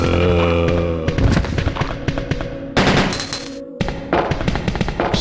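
Loud, repeated gunfire from a combined shotgun in Resident Evil 2: sharp close blasts in quick succession over a game soundtrack, with heavy booming reports and brief gaps between volleys.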